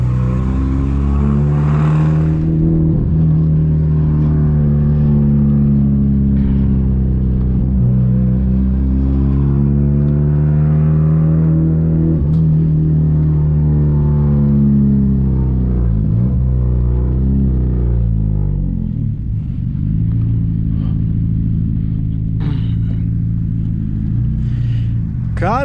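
A 1999 Honda Civic with a straight-pipe exhaust revs and accelerates up close at a night car event, its loud, raspy engine note rising and falling continuously for the whole stretch with slight background noise.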